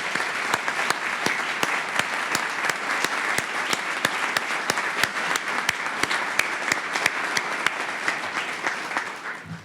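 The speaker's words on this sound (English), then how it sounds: "One more round of applause for all of our laureates." Sustained audience applause for the laureates at the Lincoln Academy of Illinois convocation and investiture ceremony: a dense, steady wash of many hands clapping close by, holding even throughout before tapering slightly at the end.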